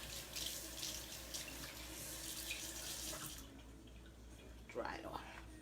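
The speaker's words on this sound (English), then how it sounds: "Let me just rinse this spoon off that I use for the batter." Water runs from a kitchen tap as a batter spoon is rinsed, a steady hiss that stops partway through, followed by faint clinks and handling sounds.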